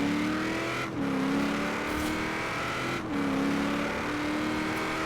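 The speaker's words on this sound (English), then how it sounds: "Oh, the bike sounds." Continuous engine whine from a motorbike in a MotoGP video game, holding a steady high pitch with two brief dips as if shifting gears, loud and close with no talking over it.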